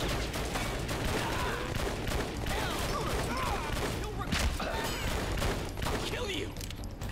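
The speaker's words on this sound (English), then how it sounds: "I just need to shoot bullets everywhere" Dense, continuous rapid gunfire from the Wii shooter Red Steel, a loud rattling barrage of overlapping shots with crashes that runs the whole stretch, with a voice speaking underneath.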